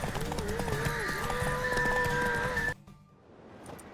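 A horse in a race in The Witcher 3 sounds in steady, close hoofbeats with snorting over a music bed, then cuts off abruptly into near silence.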